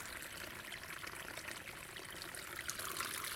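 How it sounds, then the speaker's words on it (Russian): A small, lively stream of clean, cool water runs off Lyubich island on the Desna river and spills into a river channel near a ford, giving a steady, close, continuous rush and trickle throughout. "И вот по обычаю тут же какой-то ручеек впадает в районе этого брода, где выход с этого брода."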